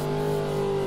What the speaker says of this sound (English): Clutch kick it in.